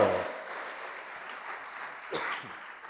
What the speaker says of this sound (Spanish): Démosle una ofrenda de palmas a ese Dios bueno, a ese Padre de misericordia que nos cuida